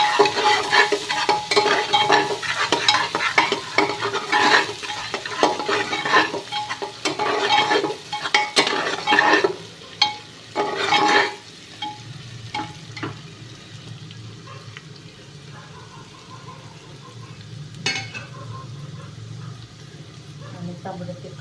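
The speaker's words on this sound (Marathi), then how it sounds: "लसूण मस्तपैकी भाजून घ्यायचं." Garlic roasting in a pan for a Maharashtrian dry chicken and biryani meal, sizzling under repeated stirring scrapes at first, then settling into a quieter steady fry with an occasional clink.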